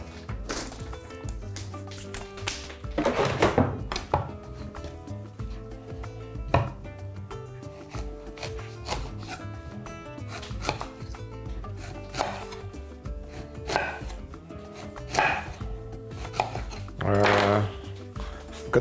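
A knife chopping lamb or quince into slices on a board, irregular bursts of cutting strokes with some louder clusters, close and clear, with occasional handling clatter between them.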